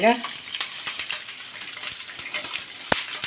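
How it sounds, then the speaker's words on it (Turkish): Chicken meatballs and peppers fry in a pan in a little oil, giving a steady, close crackling sizzle with scattered pops and brief clinks. "köftelerimi de koydum tavaya"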